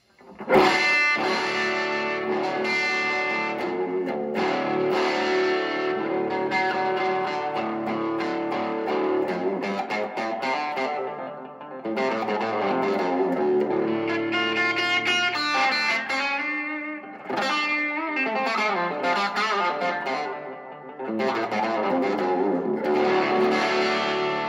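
A Gibson ES-339 electric guitar played on its back pickup through drive, boost and reverb pedals, giving a thick distorted sound with sustained chords and riffs that run continuously and loudly for the whole stretch, with brief dips between phrases.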